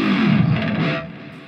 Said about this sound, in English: a couple of his signature things that he did were the dive bombs, which is where basically you just take a note and push the whammy bar down as low as you can go